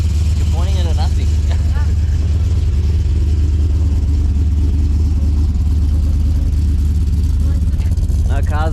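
LS1 V8 in a VN Commodore revving on a dyno, a steady loud engine drone with low rumble throughout, with voices talking over it.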